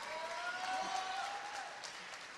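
A graduation ceremony crowd at Riverside Academy West in 2023 applauds, a faint, distant, steady wash of clapping with a thin whistle-like tone drifting through it.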